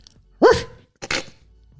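A person imitates a dog with two short, punchy barks close up, separated by a brief pause.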